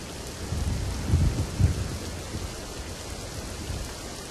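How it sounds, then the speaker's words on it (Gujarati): Heavy, unceasing monsoon rain pours down in Surat district, Gujarat, a dense steady roar of drops with a low rumbling swell early on and no voices. "તો સુરત જિલ્લામાં અવિરત ધોધમાર વરસાદ છે"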